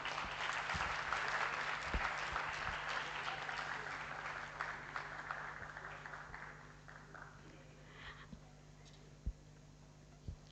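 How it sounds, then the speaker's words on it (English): Applause from the audience at a national pharmacology conference hall: dense, steady clapping that holds strong for several seconds, then thins and fades into a few scattered claps. "a huge round of applause for all of them"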